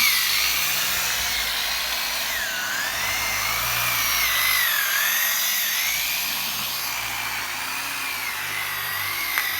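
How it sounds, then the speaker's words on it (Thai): A marble tabletop slab is worked over with the finest polishing pad, giving a continuous high, whining power-tool drone that wavers slightly in pitch as the pad moves across the stone, loud and unbroken throughout. "อนนี้ก็ขัดทั่วหน้าหินเลยนะครับผม ค่อยๆขัดไป"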